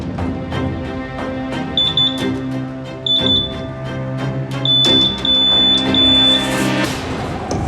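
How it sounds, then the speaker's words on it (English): An itemiser drug test machine sounds an alarm on detecting cocaine at a border security check, giving repeated high electronic beeps in short clusters over a steady background hum, loud and close. "Looks like we've got an alarm for cocaine."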